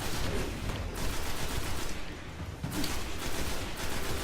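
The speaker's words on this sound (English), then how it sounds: "Yeah, I decided to try and use my shotgun." Shotgun blasts in the Destiny video game, a rapid run of loud, dense shots one after another with no gap between them.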